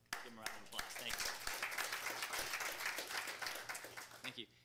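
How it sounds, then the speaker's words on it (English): A room bursts into steady applause at a city council meeting for a few seconds, many hands clapping at once before it tapers off. "Give them a round of applause."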